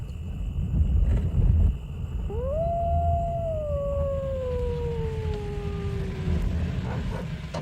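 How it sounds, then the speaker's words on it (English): A single wolf howl rises, then slides slowly downward in one long, clear tone, with a fainter second voice above it, over a steady low background of wind rumble. "The wolves."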